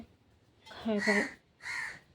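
A crow caws twice, a longer harsh call followed by a shorter one after a brief pause, fairly close and clear against a quiet background.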